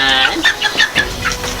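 Allotment chickens clucking close by in a quick run of short, rhythmic clucks, loud and clear against a quiet outdoor background.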